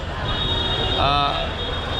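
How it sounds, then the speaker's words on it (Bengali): Station ambience at Sealdah railway station, a steady rumble of a train with a brief metallic squeal in the middle, heard over a busy background murmur of voices. "এই মুহূর্তে আমি রয়েছি শিয়ালদা স্টেশনে"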